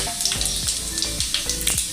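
Cumin seeds hit hot oil in a pan for a Kathiyawadi suki bhaji, giving a close, lively sizzle with rapid crackles and little pops.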